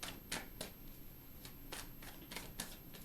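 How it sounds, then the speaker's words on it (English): Quick riffling bursts of tarot cards being shuffled, a series of soft crisp flutters at close range, fairly quiet with no talking. "2 more shuffles, and then I'm going to pull 3 cards"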